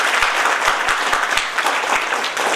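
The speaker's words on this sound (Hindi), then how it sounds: "आज पांचों डायरेक्टरों के लिए मैं जोरदार तालियां बजवाना चाहूंगा," Loud, sustained applause from a large audience at a company gathering honouring five directors, a steady dense wash of clapping with a few sharper claps standing out.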